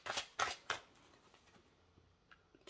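Angel cards being shuffled by hand, three quick close riffling bursts followed by faint soft handling sounds.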